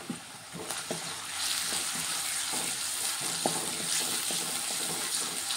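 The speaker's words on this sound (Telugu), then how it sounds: "ఈ ఉల్లిగడ్డలు ఫ్రై అవ్వాలి కొంచెం." Onions frying in a pan for a brinjal curry, a steady close sizzle with faint clinks of stirring and no voices.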